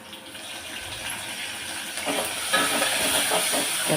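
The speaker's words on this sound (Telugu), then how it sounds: "కరివేపాకు కూడా వేసుకొని 1 నిమిషం పాటు ఉల్లిపాయలని బాగా గోల్డెన్ బ్రౌన్ కలర్ వచ్చే వరకు వేయించుకోవాలండి." Onions and curry leaves fry in a pan with a pinch of asafoetida, giving a steady close sizzle and hiss that grows a little louder partway through, with no talking.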